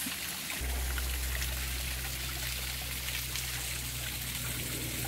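Water pours steadily from a hose channelled at a roadside in the Poços de Caldas hills of Minas Gerais, a loud, continuous splashing stream with a low rumble beneath and no voices.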